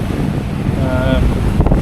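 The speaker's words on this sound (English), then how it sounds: "A bit windy this morning." Strong morning wind at sea, heading out from Beverage Reef, buffets the microphone with a low, rumbling roar, steady throughout the short stretch.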